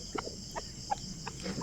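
Chickens in a backyard, Talisay-type birds, give a few short clucks spaced through the moment, close and fairly quiet over a steady insect hum.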